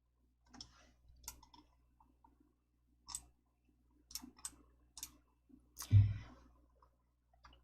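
Computer mouse clicks, a few sharp, isolated clicks spaced irregularly in a quiet room, with a louder thump-like click near the end.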